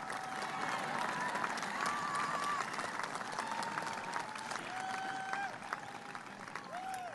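A university commencement crowd applauds steadily throughout, dense clapping with some cheering, while whistling tones and background chatter rise above it.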